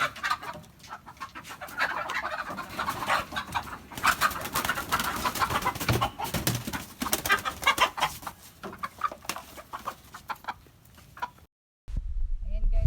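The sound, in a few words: hen with chicks clucking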